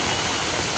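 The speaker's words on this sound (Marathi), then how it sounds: "एवढा पावसात बघा किती पाऊस चालू आहे" Heavy monsoon rain pours down in a dense, steady roar with no gaps, loud and close like a downpour drumming on an umbrella and street.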